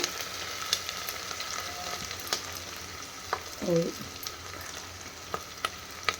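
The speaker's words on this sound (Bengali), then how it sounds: "পেঁয়াজটা দিয়ে দিই, একটা ভাজা ভাজা হয়ে যায়" Onions frying in a pan, a steady close sizzle with occasional clicks of stirring, and a brief spoken word near the middle.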